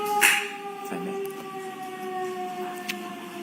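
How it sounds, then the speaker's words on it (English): A siren passes outside a courtroom, a steady wailing tone held throughout, muffled by distance and walls, with a few faint knocks and shuffles in the room. "I was just waiting for the siren"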